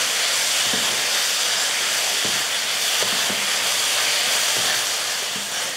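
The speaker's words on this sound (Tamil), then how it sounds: "இதையும் கொஞ்சம் வதக்கிடலாம்." Handfuls of mint and coriander leaves sauté in a pan for a chutney, giving a steady, loud sizzling hiss broken by a few faint clicks and taps of stirring, with no talking.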